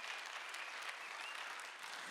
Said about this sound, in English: Let's give that group a nice round of applause.